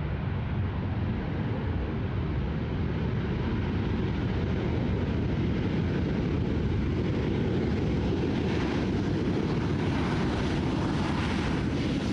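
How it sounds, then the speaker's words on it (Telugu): A FlySafair Boeing 737-8 lands with a loud, sustained engine roar and reverse thrust, a broad, steady rumble that fills the whole stretch with wind buffeting and no talking. "ఆ రివర్స్ థ్రస్టర్స్ చాలా సౌండ్ చేస్తాయి అన్నమాట."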